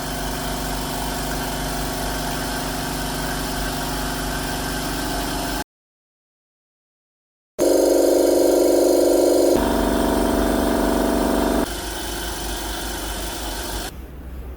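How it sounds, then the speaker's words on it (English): Oilless silent air compressors, models GDG30 and GDG35, run with a steady mid-pitched motor drone and hum, briefly cut to silence, then resume at a slightly different pitch and loudness. "So that is the sound test for our oilless silent air compressor."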